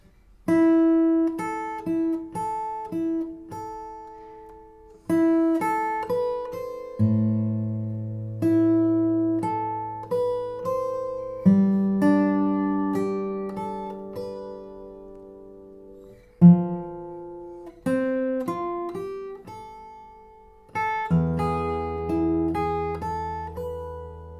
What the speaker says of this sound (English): the first bar chord is the rolling bar chord